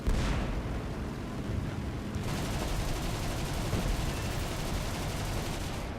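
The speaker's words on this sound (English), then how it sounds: "I got myself lined up for some cannon fire" A dense, continuous roar of rapid aircraft cannon fire in War Thunder, from an NC.900, loud and unbroken, with a brief change in tone partway through.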